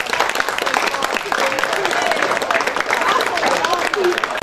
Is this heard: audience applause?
yes